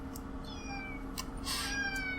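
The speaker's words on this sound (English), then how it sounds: "Stop meowing." A pet cat meows insistently close by, several drawn-out, pleading calls spaced irregularly through the moment, fairly quiet over a faint indoor background with no talking.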